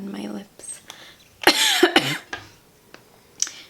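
A lingering cough left over from a cold, heard as a few short, close bursts with soft breathy sounds and quiet moments between them.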